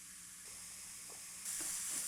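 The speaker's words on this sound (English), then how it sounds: "we're getting some sizzling." Crumbled sausage frying in a pan for biscuits and gravy gives a soft, steady sizzle with a few faint stirring taps, and the hiss brightens partway through.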